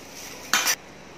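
Large, heavy metal serving spoons, a set of three, give one quick bright clink as they knock together in the hand, set against a quiet room.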